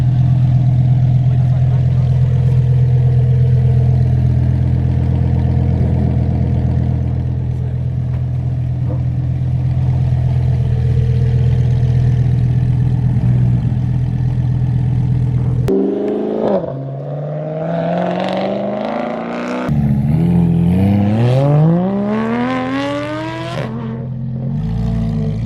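A straight-piped BMW M4 G82 driving on the road, its engine droning steadily before rising through loud revving pulls and gear changes, with exhaust roar close by.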